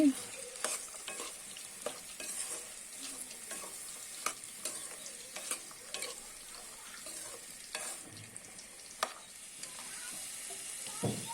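Chicken masala with salt being stir-fried, a low steady sizzle under repeated scraping strokes of a spoon against the pan, fairly close and quiet, no voices.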